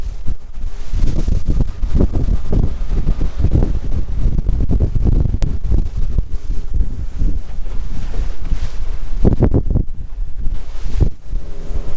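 Strong wind gusts buffet loudly and continuously at a beach at Barwon Heads in July, with rumbling roar and wind noise throughout.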